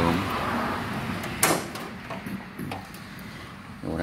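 A 1967 Thunderbird headlight door worked by hand, giving a sharp metallic clack followed by a few softer knocks and scrapes as the emptied door moves.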